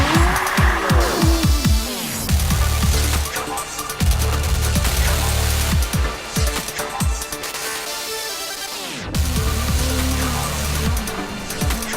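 Formula SAE electric race car driving hard, with repeated rising and falling whines as it passes, short tire squeals and a steady loud roar of motion, no talking.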